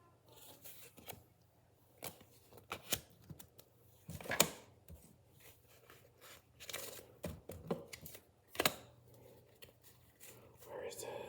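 UNO Flex playing cards are sorted and searched through by hand, giving intermittent close papery slaps, flicks and shuffling rustles in irregular bursts, with quiet pauses between handlings.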